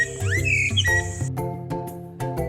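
Birds chirp briefly near a quiet, empty road in a green village among trees and bamboo: a few quick, rising whistled chirps at the start, then a steady tonal hum with faint clicks. No one speaks.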